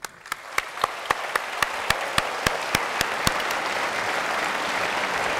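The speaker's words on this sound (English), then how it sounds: "let's give a round of applause to welcome Harvey" Audience applause at a physics lecture at Caltech, a dense wash of clapping with a few sharp, evenly spaced claps standing out near the start before settling into an even roar.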